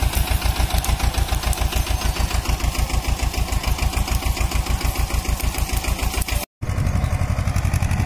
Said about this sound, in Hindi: Sonalika NT-30 high first gear 45 HP plough.